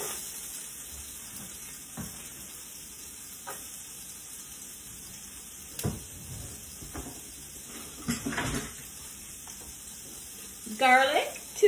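Lamb meatballs browning in a hot pan as a large white onion goes in, a steady low sizzle with faint stirring scrapes and a few soft clunks of the pan and utensils, fairly quiet throughout.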